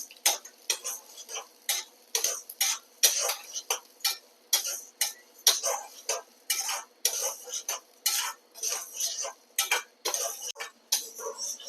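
Urad dal being dry-roasted in a pan with a lump of asafoetida, a spoon scraping and stirring in quick repeated strokes, close and clear with faint sizzling between the scrapes.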